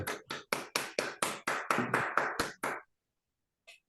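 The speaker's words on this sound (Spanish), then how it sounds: "creo que merece un aplauso el licenciado Martín Saín" Hands clap for a speaker at a talk on psychology in sports training and competition: about a dozen sharp, evenly spaced claps in a steady rhythm, loud and close, ending abruptly in silence with one faint sound after.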